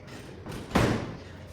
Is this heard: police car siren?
no